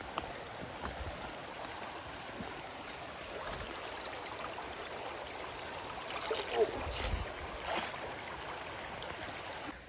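A river runs steadily outdoors at a backpacking campsite, a soft continuous rushing with a few brief splashes and knocks nearby.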